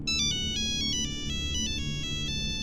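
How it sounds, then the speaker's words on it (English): A bright electronic ringtone plays a quick, looping melody of beeping tones, close and clear over a low background rumble. "having an audible ringtone."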